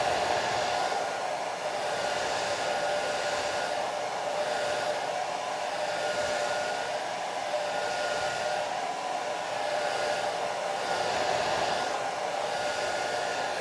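A hair dryer blows steadily over a wet watercolor sky painting. Its constant, fairly loud whooshing drone holds without a break and no one speaks.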